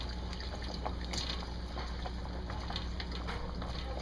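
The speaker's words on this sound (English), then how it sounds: "And we're going to still continue to add that water." Water poured steadily into a cooking pan on a medium-high burner while making shepherd's pie, a continuous close trickle and splash with faint background hum.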